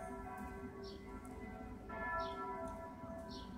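Church bells ringing in a town, a sustained resonant peal with overlapping tones and repeated strikes, heard at a distance without speech.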